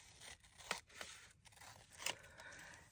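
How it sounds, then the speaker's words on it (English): Scissors cut paper for a journal with a few quiet snips and crisp paper scrapes, close and faint over about three seconds, with no talking. "So I'm actually going to cut it."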